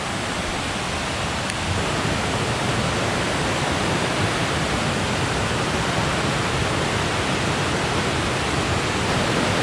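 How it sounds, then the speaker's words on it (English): Small, little-known waterfall in the Costa Rican forest, a steady broadband rush of falling water that fills the whole stretch at constant loudness, close and unbroken, with no voices. "So this is the little waterfall."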